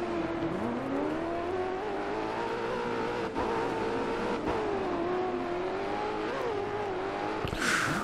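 A rally car's engine drones steadily in DiRT 4 as the car slides on a Landrush course, the revving pitch rising and falling continuously, with a couple of brief knocks and a final gritty burst of gravel spray.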